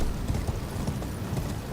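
Horse hooves galloping in Elden Ring, a fast steady clip-clop rhythm of repeated thuds under a constant background rumble, near and moderately loud.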